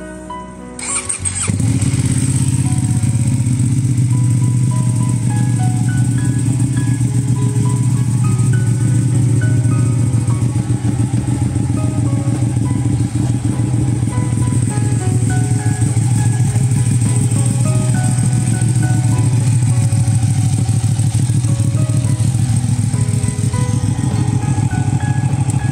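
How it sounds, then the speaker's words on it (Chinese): A tractor engine catches after a brief start and then runs at a steady, loud, close idle with a constant low rumble and no talking. "他都远了，听听咱这个拖拉机"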